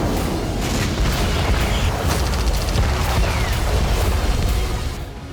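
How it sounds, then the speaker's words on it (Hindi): Rocket attack explosions from M80 rockets striking Israeli cities, a dense, continuous roar of booms and crackling blasts that stays loud throughout before easing off at the very end. "ने अब इजरायली शहरों पर M80 रॉकेट से हमले करने शुरू कर दिए हैं"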